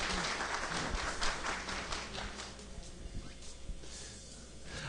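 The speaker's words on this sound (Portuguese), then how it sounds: "Palmas para o MacGyver aqui." Applause for MacGyver at a free-software music production talk: a faint, distant wash of clapping from the audience, denser at first and thinning out, with low room hum underneath.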